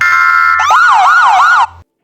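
A loud electronic siren tone holds steady, then switches to a fast warbling wail for about a second before cutting off abruptly into silence.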